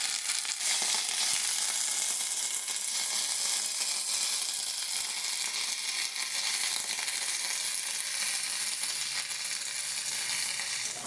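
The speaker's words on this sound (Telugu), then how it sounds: "ఇలా బాగా వేయించుకోవాలి కరివేపాకు వేగింది" Curry leaves fry in a pan with a steady, dense sizzle that holds at an even level throughout, close and fairly loud, with no talking.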